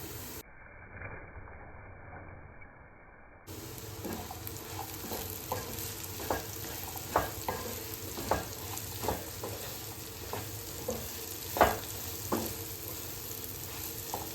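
Bitter gourd pieces with turmeric fry in a pan: after a quiet opening, a soft, steady sizzle sets in, punctuated by repeated stirring scrapes and light knocks of a spoon.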